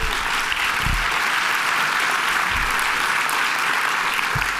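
Loud, continuous applause fills the hall at a university alumni awards celebration after a musical performance, a thick even wash of clapping with a few low thumps underneath.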